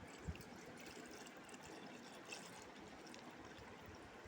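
Half a litre of pure cream milk is poured in a kitchen for making junnu, a quiet, steady liquid trickle lasting several seconds with a faint knock near the start and no talking.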